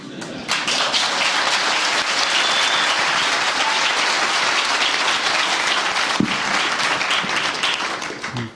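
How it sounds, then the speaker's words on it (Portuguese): Sustained applause from an audience at a Brazilian business panel on investors and risk, a dense, loud crowd clapping that starts abruptly, holds steady for several seconds, and trails off at the end. "Pelos aplausos que vocês prestaram agora"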